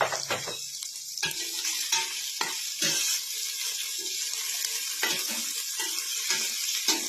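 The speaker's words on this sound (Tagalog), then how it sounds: "Lagyan natin yung hipon." Shrimp sautéing in a hot pan for a patola dish: a continuous sizzle and fry with repeated stirring scrapes and clinks, close and fairly loud, with no talking.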